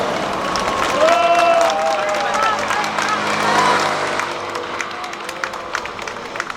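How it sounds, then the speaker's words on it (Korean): A crowd at a campaign rally in a market claps and cheers in a sustained burst of applause, with voices rising above the noise before it gradually thins out. "박수 한번 주시죠"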